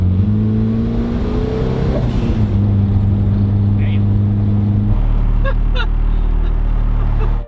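A turbocharged Mazda Miata with a newly built exhaust drones steadily at highway cruising RPM, a loud continuous low hum that holds through the whole stretch and drops slightly in pitch partway.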